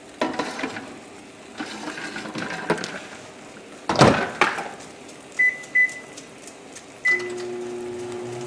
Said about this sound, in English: Heating up the rest of my dinner in the microwave